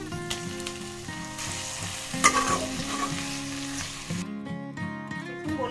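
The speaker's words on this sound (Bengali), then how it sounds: "রসুনগুলো ভাজা ভাজা হয়ে গেছে, এবার আমি এখানে মাছের তেলটা দিয়ে দিব।" Crushed garlic fries in oil in a pan as fish oil is added, giving a continuous close sizzle with stirring noises over soft background music.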